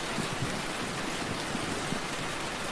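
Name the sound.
gentle rain against the window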